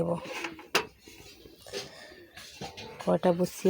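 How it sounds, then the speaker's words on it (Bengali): A metal kadai set down on a kitchen stove, giving a sharp clank and a few softer knocks of cookware, heard between bursts of nearby talking. "এবার আমি কড়াটা বসিয়ে"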